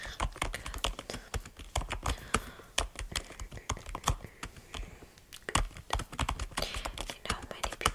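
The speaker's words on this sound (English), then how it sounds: "these typing sounds are very relaxed for them" Rapid, crisp keystrokes on a computer keyboard patter in an uneven run with brief pauses, close and fairly quiet, with no voices.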